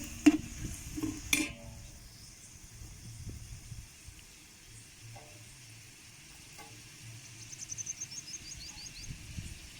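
Chopped ripe tomatoes cook in oil for a country chicken curry with a faint, low sizzle. A few sharp utensil clinks come at the start, and light chirps are heard later.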